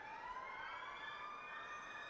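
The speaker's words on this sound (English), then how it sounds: "siren's going off." A wailing siren in a Roblox hockey video game sweeps steadily upward in pitch, loud and continuous, with no other sounds over it.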